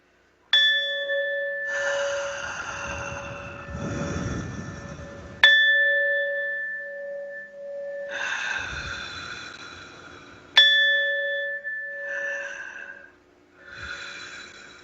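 Gong struck to open a metaphysical studio: three bright metallic strikes spaced about five seconds apart, each ringing out and decaying slowly, with a low rumble beneath the tones.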